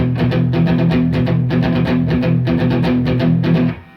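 Palm-muted electric guitar riff from a punk song, played in a steady down-down-up-down-up strumming rhythm of chugging chords, loud and continuous before stopping abruptly near the end.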